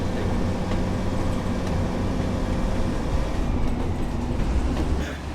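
A British Rail Class 142 Pacer train in a video game rumbles steadily along the Blackpool South branch line, a continuous low rolling drone with faint clicks over the rails, loud and close throughout.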